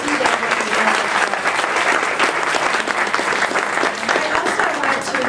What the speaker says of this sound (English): let's give another round of applause for our panel